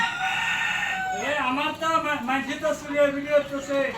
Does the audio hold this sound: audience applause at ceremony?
no